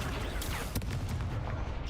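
A spell effect from the video game Hogwarts Legacy: a loud, dense rush of blasting, crackling energy with a sharp crack midway, sustained for about two seconds.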